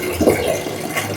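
Water pours steadily into a pot of rice being measured for cooking with an equal amount of water, a brief close splashing fill.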